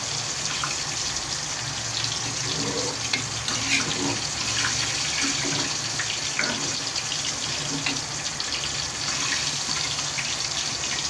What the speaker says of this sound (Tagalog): Dagdagan ko na po ng tubig kaya natuyo na.